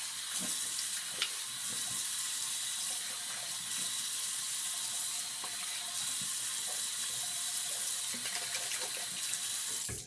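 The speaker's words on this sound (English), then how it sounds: "All right, cold water rinse." Cold tap water running steadily into a sink for a rinse, a loud continuous hissing splash with small clinks, alone throughout before cutting off at the end.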